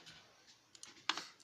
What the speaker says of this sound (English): so I'm just clicking